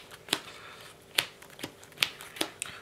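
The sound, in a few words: power shuffling a deck of trading cards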